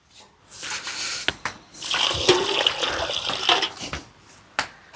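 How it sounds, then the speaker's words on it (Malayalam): Water poured onto dragon fruit plants at a home farm: a broad, splashing gush that swells and fades in a few surges, with short pauses and sharp bursts between. "ഈ സൈഡിലേക്ക് ഇത്തിരി വെള്ളം ആക്കിക്കോളാം."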